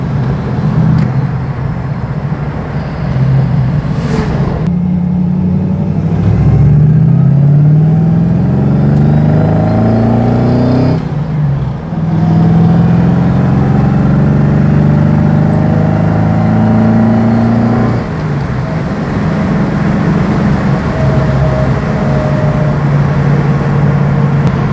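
An MGB GT V8 with an Edelbrock carburetor cruises at about 50 mph on a Norfolk road, its engine droning steadily and loudly from inside the car with pitch shifts and a brief dip as it changes speed.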